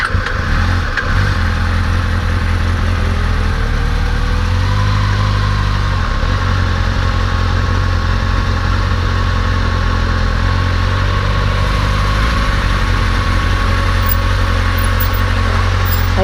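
A motorcycle engine idles steadily and loudly at a McDonald's drive-through, a constant low rumble running nearly alone through the whole stretch with no talk over it.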